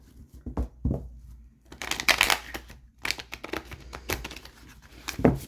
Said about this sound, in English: let's pull some cards and see